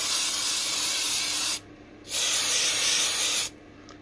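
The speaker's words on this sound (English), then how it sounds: "So then we're going to get the spray glue." Spray glue hisses from an aerosol can in two long loud bursts with a short pause between, close up and with no talk, while a prefabricated piece is glued.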